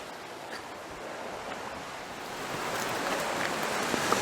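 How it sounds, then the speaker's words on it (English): Water rushes steadily on Bell Island, Newfoundland, near a cliff's edge, as a broad, continuous wash that swells slightly louder toward the end, with no voices. "A bit of water."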